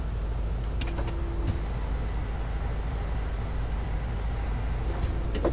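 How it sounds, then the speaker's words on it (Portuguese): Bus door closing in Fernbus Simulator: a short mechanical whir near the start and again near the end, over a steady low idling engine rumble, no voices. "Pronto, vamos fechar a porta."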